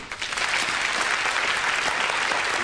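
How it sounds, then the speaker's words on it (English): A studio audience at a magic show gives a round of applause for Debbie McGee, dense continuous clapping from many hands at a steady, full level from start to finish. "give a nice round of applause to the medium, Miss Debbie McGee."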